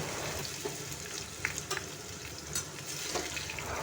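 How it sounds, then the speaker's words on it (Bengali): Steamed taro stolons fry over a high flame in mustard oil tempered with black cumin seeds, producing a soft, steady sizzle with faint scattered crackles and light stirring taps. "কচুরলতি দিয়ে গ্যাসের ফ্লেমটা হাইতে রেখে ভালো করে ভাজা ভাজা করে নিতে হবে।"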